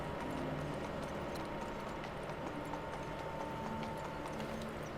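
A horse's hooves clip-clop at a slow walking pace through a town in the King's Bounty 2 video game, quiet, even steps over a low, steady background bed.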